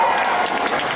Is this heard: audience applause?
yes